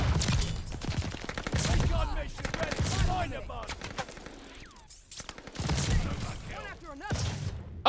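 In Call of Duty Vanguard, an EX1 energy gun charges and fires amid a rapid fusillade of in-game gunfire and mechanical clicks, loud and busy, with a voice talking over it.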